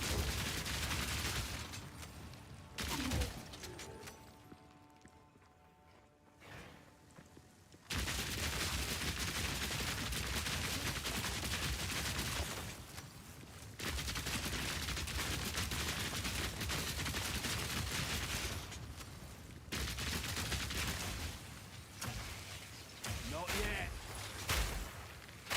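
Dense gunfire and booming grenade blasts from the video game Path of Exile 2 fill nearly the whole stretch with rapid loud bursts. Brief quieter gaps break them up, and a voice talks over the action.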